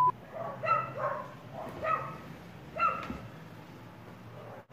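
A dog barks outside a window in three separate bursts of yapping, somewhat distant and muffled, over a steady indoor room hum.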